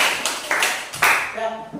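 A classroom of students claps their hands in a few quick bursts, with voices mixed in and a short spoken phrase at the end.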